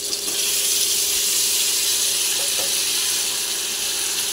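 Chicken meat dropped into a kadai of hot oil and fried spices, giving a loud, steady sizzle that fills the whole stretch, with faint stirring under it and no talk.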